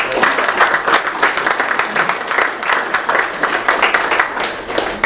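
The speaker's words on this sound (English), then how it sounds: "So just one big round of applause for the parents." A crowd gives a big round of applause for players' parents at a high school lacrosse signing day event at DeMatha Catholic, steady loud clapping throughout with a faint voice underneath.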